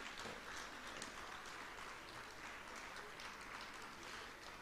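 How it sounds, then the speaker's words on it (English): A dinner crowd at a Ghanaian cocoa event claps in a broad, continuous wash that sounds faint and distant, with a low hum underneath and no clear voices. "give him another big round of applause, ladies and gentlemen"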